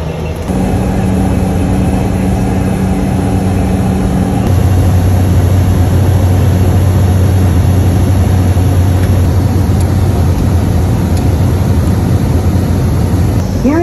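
A small aircraft engine drones loudly and steadily in flight toward the Amazon, a heavy cabin hum whose pitch drops and settles partway through, continuous throughout with no voices.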